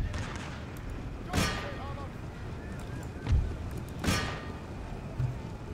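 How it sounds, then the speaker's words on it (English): Howitzer artillery fire in the strategy game Empire Total War: a few distant booming shots spaced a couple of seconds apart over a steady windy battlefield rumble, with someone talking through it. "Some more howitzers coming in"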